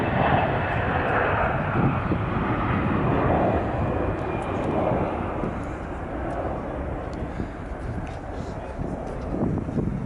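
A Safair Lockheed Hercules L100 turboprop cargo aircraft runs its engines, heard as a loud, steady roar with wind-like hiss that eases slightly midway, continuing throughout without clear speech.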